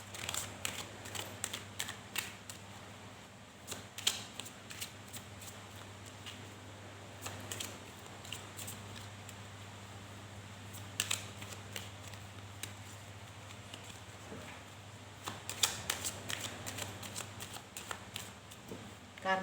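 Tarot cards are shuffled over and over, crisp riffling bursts and soft flicks spread throughout, close and steady over a low background hum.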